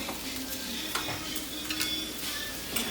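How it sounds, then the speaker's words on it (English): Stirring candied pecans together with roasted Brussels sprouts, a steady scraping and rustling with a few sharper clinks of utensil against the dish, close and alone. "Give it another quick little stir, and you've got candied pecans, roasted Brussels sprouts."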